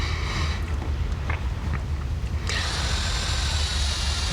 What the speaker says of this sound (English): drill holes through the face of the headstock outside of the actual template lines itself